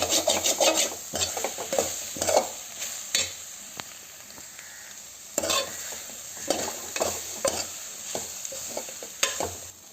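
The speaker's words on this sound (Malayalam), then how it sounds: "ഇനി എല്ലാം കൂടി മിക്സ് ചെയ്യാം" Drumstick and egg thoran is stirred and mixed in a pan, with repeated scraping and rubbing strokes of a spatula over a soft sizzle, close and clear with brief pauses between strokes.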